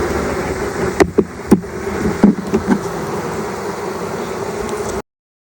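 Honey bees hum in a continuous close buzz while an open beehive is inspected, with a few sharp knocks and taps standing out early on before the sound cuts off.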